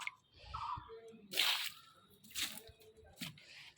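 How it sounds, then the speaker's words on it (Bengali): Water poured into a potted lotus plant set in soil and cow-dung manure, heard as a few close, uneven splashing and sloshing bursts separated by quiet gaps. "ওভারফ্লো করব তার জন্য জলগুলো দিয়ে দিচ্ছি"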